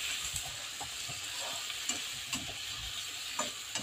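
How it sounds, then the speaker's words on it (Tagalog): Tomato, garlic, ginger and onion sautéing in a pan for a chicken dish, a quiet continuous sizzle broken by a rhythm of soft spatula taps and scrapes, with no one speaking. "magigisa po tayo ng kamatis at yung mga bawang, luya at lason, sibuyas"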